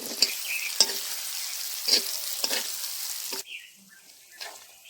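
Amla, Indian gooseberries for pickle, fry in a pan with a bright crackling sizzle broken by several sharp stirring scrapes, then the frying drops to a quieter hiss near the end.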